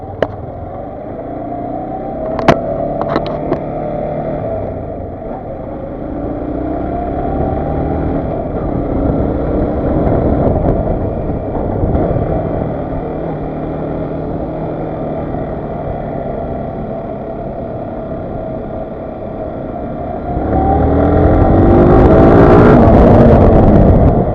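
A Bajaj Pulsar motorcycle engine drones steadily for a long stretch at night, with a few sharp clicks early on, then revs up louder near the end.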